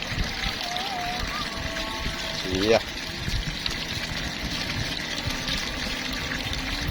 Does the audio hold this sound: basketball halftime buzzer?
no